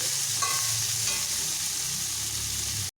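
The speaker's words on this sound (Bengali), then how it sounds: "আমি মিডিয়াম হিটে এইভাবে ভাজছি" Figs frying steadily in a pan over medium heat, with a couple of light utensil clinks near the start.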